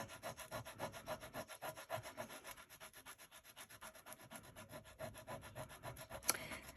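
An eraser scrubs pigment ink off envelope cardstock in rapid, steady back-and-forth strokes, a soft rhythmic rubbing heard close and quiet with no talking.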